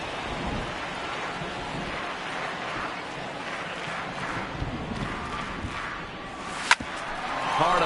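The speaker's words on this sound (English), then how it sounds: "I don't know how much more rain this field can take." Heavy rain pours steadily onto a baseball field, a dense continuous hiss with a sharp crack of thunder near the end.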